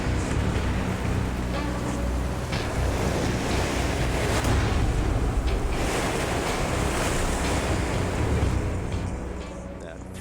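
Ocean waves and strong wind sweep over open water in the middle of the Atlantic, a dense continuous roar of surf and wind buffeting the microphone that fades slightly at the end.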